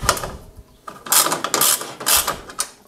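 Hand tool working the screws at the front bumper of a BMW M2 Competition, giving bursts of bright metallic clicking and ratcheting in three or four close, fairly loud spurts with brief pauses between.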